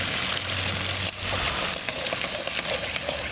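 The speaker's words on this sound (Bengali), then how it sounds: "পেঁয়াজ রসুন আর আদা, সামান্য একটু জল দিচ্ছি।" Onion, garlic and ginger hitting a hot pan with a splash of water, a loud, dense sizzle that hisses continuously up close with brief stirring, no voices.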